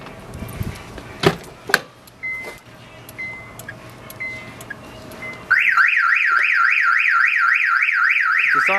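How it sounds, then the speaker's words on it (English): Compustar 1WG2AM alarm system siren bursts on with a loud, steady warbling wail after a few quiet clicks and thumps of doors and keys, then continues alone. "When the doors are breached, the alarm will sound and go off."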